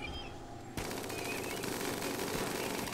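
Gunfire in RimWorld Alpha 15 as mechanoids with ranged weapons shoot: a sudden onset of continuous rapid automatic fire, dense and steady, fairly faint in the mix and heard without talk.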